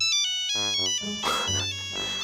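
A Nokia mobile phone taped to a badminton racket plays its electronic ringtone, a bright melodic run of beeping tones, loud and clear with nothing else over it.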